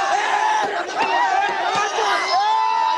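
A crowd of Maratha reservation protesters loudly shouting slogans against Sharad Pawar, many overlapping voices chanting and yelling at close range in a dense, sustained roar.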